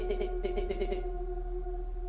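In the horror card game Inscryption, a cat creature gives a quick run of short meows over a steady, droning game soundtrack, then falls silent while the music continues.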